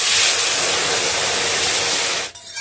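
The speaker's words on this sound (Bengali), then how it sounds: "এবার আমি কড়াইতে দিয়ে দেবো অল্প একটু জল।" A little water poured into a hot wok after frying vermicelli bursts into a loud, steady hiss of steam and sizzle, holding strong for about two seconds before abruptly dropping away.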